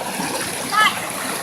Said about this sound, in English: I'm just slowly approaching the waterfall